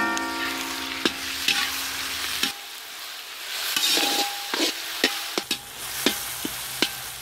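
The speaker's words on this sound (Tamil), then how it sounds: "இப்போ வந்து தக்காளியை கொட்டி வணக்கிக்கலாம்" Chopped tomatoes and onions sautéing in a pan for a whole bitter gourd fry, a steady close sizzle with spatula scrapes and taps against the pan as they are stirred, no talking.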